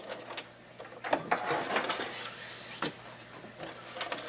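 Sewing machine back tacking a fabric lanyard strap, with quiet irregular mechanical clicks and short whirring bursts close by, alternating with brief pauses.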